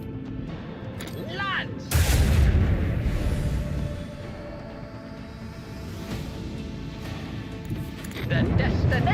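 Macro cannon fire in Warhammer 40K Rogue Trader, a heavy boom around two seconds in followed by a rumbling tail and a second burst near the end, with a voice speaking over it.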